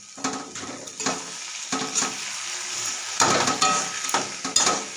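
A spoon stirs cabbage curry with ghee and garam masala in a hot pan, giving soft scraping strokes in bursts over a light sizzle, close and fairly quiet.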